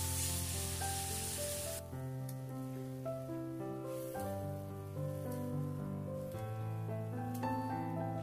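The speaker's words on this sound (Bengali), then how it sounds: "এখন আমি দিয়ে দিচ্ছি 2 কাপ পরিমাণ জল।" Two cups of water go into a pan of fried spice paste and parboiled potatoes for a plantain kofta curry, giving a short, loud hiss of sizzling at the start, then only background music.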